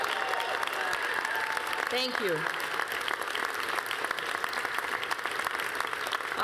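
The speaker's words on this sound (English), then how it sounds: "let's give yourselves a huge round of applause for what you've done" Campaign supporters applauding at a concession speech, steady moderate clapping heard from some distance while a speaker briefly talks over it.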